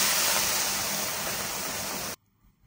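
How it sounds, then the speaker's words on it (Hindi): Water poured into a pot of homemade chicken curry with tomato, chilli powder and spices, a loud steady rushing splash that runs for about two seconds and then stops abruptly into near silence. "पानी दबा।"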